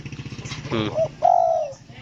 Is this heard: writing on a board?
no